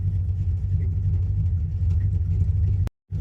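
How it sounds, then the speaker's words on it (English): A Ford Mustang with a dumped exhaust idles in a driveway, a loud, deep, steady rumble that runs unbroken until a brief sudden cutout near the end. "We can barely hear each other over the dumped exhaust"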